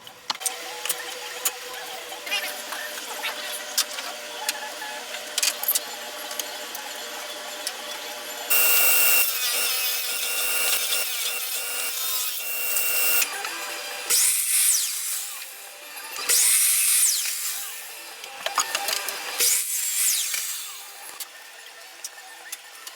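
A power saw cuts through wooden trim boards in a workshop, with loud bursts of whining cutting separated by quieter stretches of the motor running, repeated several times up close.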